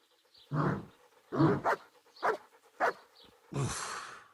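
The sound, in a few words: dog barking in video game Kingdom Come: Deliverance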